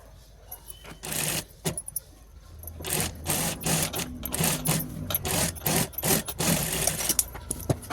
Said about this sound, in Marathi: दोन्ही कडेने छान शिलाई मारून घ्यायच्या